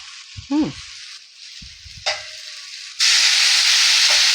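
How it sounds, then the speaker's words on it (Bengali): Spices frying in a pan as a little hot water is added: soft sizzling with a couple of sharp bursts, then a loud, continuous hiss of steam and spitting oil to the end. "এতে গরম জল একটু দিয়ে মশলাটাকে ভালো করে ভেজে নেব"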